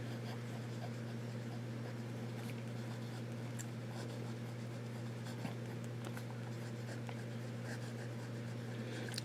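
Faint scratchy strokes of a fountain pen with a medium nib writing on paper, with soft irregular scrapes over a steady low electrical hum.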